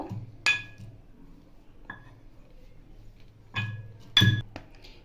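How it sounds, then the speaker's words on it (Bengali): Cinnamon, cardamom, cloves and peppercorns are crushed for masala chai, giving sharp clinking taps of a hard utensil, about five strikes spaced irregularly with quiet gaps, close and crisp. "মশলা এখানে গুঁড়িয়ে নিয়েছি"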